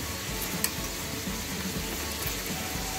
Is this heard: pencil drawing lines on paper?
no